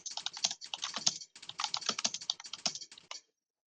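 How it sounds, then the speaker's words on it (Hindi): Rapid keystrokes on a computer keyboard, close and crisp, in two quick bursts split by a short pause before the typing stops. "इस तरह से आपको टाइपिंग करनी है।"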